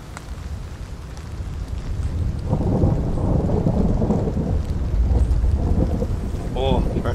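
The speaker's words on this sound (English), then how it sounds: "Oh, that storm sounds so good." A thunderstorm in the video game Road to Vostok, with steady heavy rain and deep rolling thunder rumbling throughout, loud and enveloping, with a brief tonal blip near the end.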